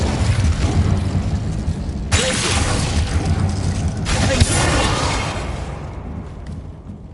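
An Incendio fire spell in Hogwarts Legacy roars out as a loud, sustained whoosh of flame, with two sharper bursts flaring up over a continuous rushing blaze that fades toward the end.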